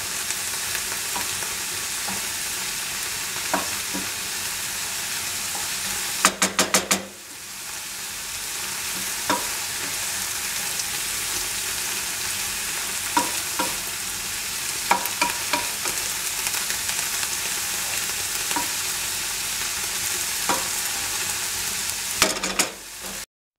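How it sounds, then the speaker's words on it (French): Chopped leeks sizzle and fry in a pan for a leek and bacon quiche, a steady close crackle with occasional stirring clinks and scrapes; no one speaks. "Et là on va cuire à peu près 5 minutes. Vous allez voir, hein, le volume des poireaux va diminuer"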